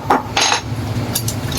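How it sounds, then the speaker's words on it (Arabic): Fresh ginger root being cracked with a hammer in a kitchen gives a few sharp, close metallic knocks and taps at an uneven pace, with no talking. "بنجيب شاكوش زي كده، بنحاول ان احنا نكسره"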